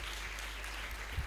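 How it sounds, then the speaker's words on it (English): Audience applause for a coach at an anniversary celebration, a steady, moderately loud wash of clapping over a low hum, with a brief bump near the end and no talking. "Let's give a hearty clap to Coach Irene."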